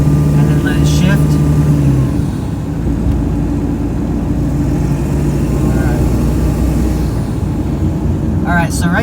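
A 7.3 Powerstroke diesel truck accelerating and shifting, heard from inside the cab as a loud, steady engine drone that dips briefly partway through, with a voice talking over it.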